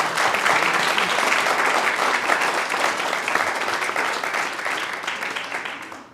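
Warm audience applause welcoming Susan at a service gathering: dense, steady clapping from a full room that holds strong for about six seconds, then tapers off at the very end.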